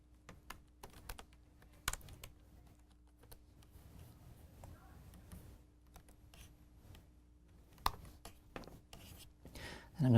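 Light keystrokes on a computer keyboard while code is typed, irregular clicks scattered across ten quiet seconds with a few louder taps and faint background hum.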